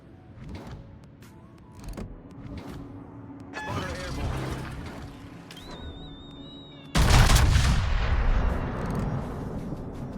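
Battleship North Carolina's main guns fire a broadside in World of Warships, a sudden massive boom about two thirds through that rolls into a long rumbling tail, after scattered smaller gun reports, ship mechanisms and someone talking.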